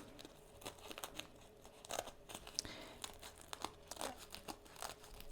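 Curved appliqué scissors snip through sequin fabric in close, crisp cuts, with crinkly rustling and scattered sharp clicks spread irregularly across the span.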